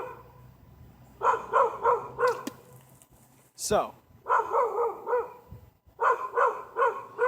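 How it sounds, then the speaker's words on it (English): A dog barks in repeated bursts somewhere nearby, three clusters of loud yapping separated by pauses, while someone talks indoors. "pause this until that dog shuts the fuck up."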